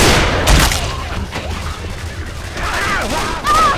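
Gunfire from shooting zombies in the video game Left 4 Dead 2, a dense rapid stream of shots and booms throughout under a busy game soundscape, close and loud.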